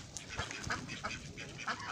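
Ducks on a farm, several soft scattered quacks and calls from a short distance, fairly faint, with no talk.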